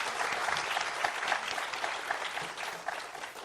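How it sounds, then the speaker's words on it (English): An audience at a design school launch event applauds, a lively burst of many hands clapping with uneven swells and no voices on top. "Please give them a huge round of applause."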